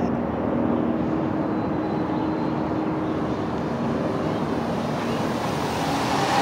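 An E-Flite T-28 Trojan RC warbird makes a fast pass over the runway near full throttle, a steady broadband electric motor and propeller roar blended with strong wind noise, constant in loudness throughout.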